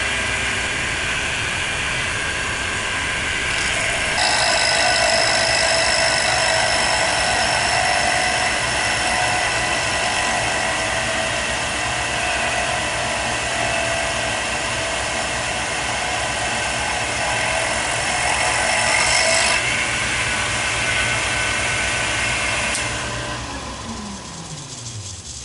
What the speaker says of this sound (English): I don't know if you can hear that over the lathe, but it is grinding inside there